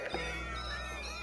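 Many cats meow together in the Minecraft video game, a dense overlapping chorus of game meows over a steady low background hum, with no talk.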